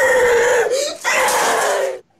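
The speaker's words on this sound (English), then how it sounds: "Wow, that is some top tier screeching" A piercing, high-pitched human scream like a banshee's screech rings out loud and sustained for about two seconds, wavering and breaking once before cutting off abruptly.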